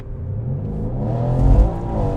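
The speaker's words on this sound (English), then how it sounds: "The third one is revving the car." A car engine revs up with a rising, rumbling drone that swells and holds, loud and close with no voices over it.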